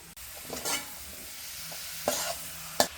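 Pork pieces frying with spices and chopped tomato in a pan, a steady close sizzle broken by a few scraping stirs, with no talking.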